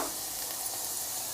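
Grated carrot sautéing in ghee in a pan, a steady close hiss of frying that stays even and continuous with no voices.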